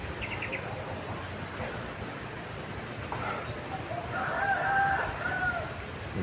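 Faint chicken calls, including distant clucking and a rooster-like cry, sound over steady outdoor background noise.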